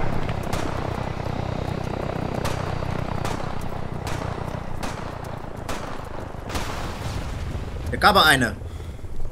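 A low-flying aircraft in the military game Arma 3 roars steadily under bursts of gunfire and game effects, with a voice speaking briefly near the end.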